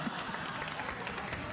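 Studio audience applause on a late-night talk show, a dense steady wash of clapping heard close and alone throughout.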